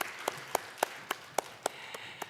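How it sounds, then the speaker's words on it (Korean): A church congregation at a Sunday service in Baltimore claps in steady unison, about nine sharp, evenly spaced claps at a moderate distance. "하나님께 영광의 박수를 올려드리겠습니다."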